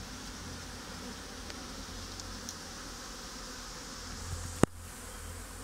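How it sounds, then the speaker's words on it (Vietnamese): Honey bees buzz around a tiered, improved-design beehive, a dense, steady drone throughout with one brief sharp click near the end. "Ong đi làm rất tích cực."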